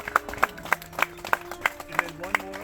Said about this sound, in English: Let's give a round of applause to this man right here.